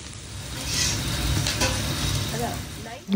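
Seafood sizzles and crackles in hot olive oil in a pan, a steady frying hiss with occasional stirring clinks.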